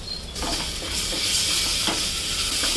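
Lightly pink onion and ginger-garlic paste sauté in hot oil for Kolhapuri white rassa, a dense close sizzle with scraping stirs, loud and continuous.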